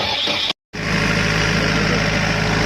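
A repaired generator engine fires up and settles into a steady, loud idle after a brief silent gap, its low running hum and vibration continuous and close by.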